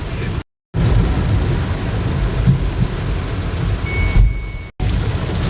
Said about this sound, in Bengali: যদিও ভয়ঙ্কর বৃষ্টি, তবুও বাসায় কেউ বসে নেই, সবাই রাজপথে চলে আসছে বৃষ্টিকে উপভোগ করার জন্য।